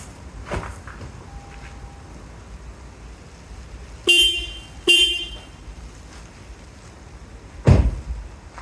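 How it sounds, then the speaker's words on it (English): The stock horn of a Toyota Corolla Cross sounds in two short, loud honks about a second apart, followed later by a dull thud, over quiet garage background. "We're going to do a horn upgrade from this"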